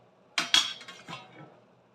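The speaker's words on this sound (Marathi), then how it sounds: "कवर करून ठेवते" A metal plate used as a lid set down on a kadhai of cooked noodles in a home kitchen, giving two close, sharp clinks followed by a softer rattle as it settles.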